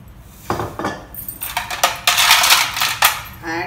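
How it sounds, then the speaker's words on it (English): Cold water poured into a glass of sweet lime squash, with clinks and splashy pouring bursts in short uneven runs, close and fairly loud, with no talking. "Top it up with some cold water."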